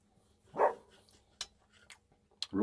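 Dog barking for food inside a campervan during pizza cooking, one clear bark followed by a couple of sharper shorter yips, fairly close in a quiet space.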